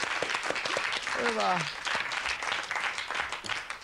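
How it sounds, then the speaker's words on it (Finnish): Studio audience applause at a Finnish TV talk show, steady clapping running under a host's voice, with one short spoken word. "aplodit ihan kerran näille"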